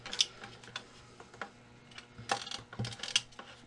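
Knife cutting wax and plastic on a swarm trap: a quiet, irregular series of small clicks, scrapes and snaps close by, with no voices.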